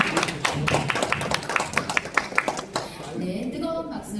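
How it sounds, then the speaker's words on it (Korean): Audience applause at a forum held in a small National Assembly meeting room, with brisk rhythmic clapping that fades after a few seconds into a voice speaking. "뜨거운 박수로 맞이해 주십시오."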